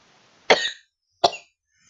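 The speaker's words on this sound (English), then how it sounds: "I have a really bad cough." Two sharp, close coughs from a man with a cold, spaced about three quarters of a second apart, each a short harsh burst with silence around them.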